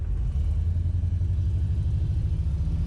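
Chevy S10 pickup with a swapped LS V8 heard from inside while driving, a loud, steady, throbbing low engine rumble with a pulsing exhaust note throughout.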